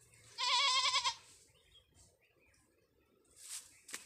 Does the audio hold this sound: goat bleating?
yes